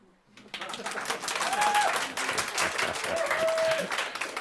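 An indoor audience bursts into applause, with dense clapping that rises quickly and holds steady at moderate loudness for several seconds.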